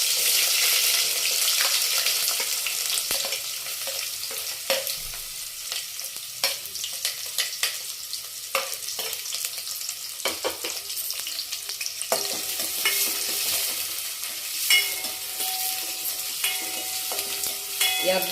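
Chopped onions hiss and crackle in hot oil with mustard and cumin seeds while tempering for moong dal rasam, a continuous close sizzle broken by sharp scraping stirs.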